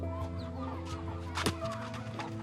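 Chickens cluck softly against a steady low hum, with a sharper squawk rising briefly in the middle.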